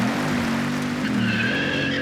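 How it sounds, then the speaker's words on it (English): A Bugatti Veyron launching hard off the line on a test track, all four tyres smoking, with a loud sustained engine roar and tyre squeal that stays close throughout. "And he's off, and just look how fast that thing fires off the line, smoking all 4 tyres."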